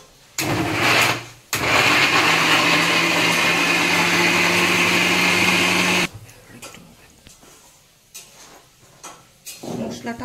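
A kitchen mixer grinder churns masala spice paste for kabuli chana ghugni in two loud whirring bursts, a short one and then a longer steady run of about four seconds, followed by clicks and quiet handling.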